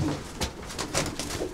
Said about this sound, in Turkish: Limon sarı dediğimiz bir kuş bunlar.